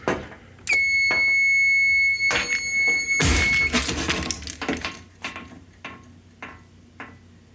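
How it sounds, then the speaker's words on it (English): Simplex fire alarm system set off during a smoke detector test in a back room: a loud, piercing electronic tone and horn blasts for a few seconds, then scattered clicks and clatter as the sound dies away. "And we'll go ahead and test the backroom smoke detector."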